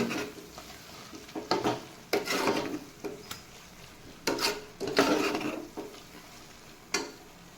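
A spoon stirs tomato masala in a pan for tomato rice, giving irregular scraping and clinking strokes over a soft background sizzle, loud and close, with pauses between strokes.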